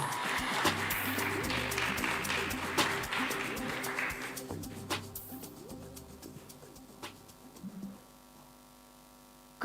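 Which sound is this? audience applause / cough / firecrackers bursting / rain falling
audience applause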